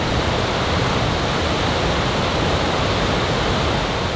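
A waterfall in the Sri Lankan highlands roars as a dense, unbroken wash of falling water, loud and steady throughout with no voices or other sounds over it.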